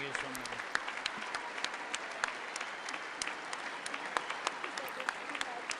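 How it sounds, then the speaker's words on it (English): Audience applauding Zelensky's speech, a broad, continuous roll of many hands clapping at a distance with sharper individual claps popping through, faint voice in the room. "They're still clapping."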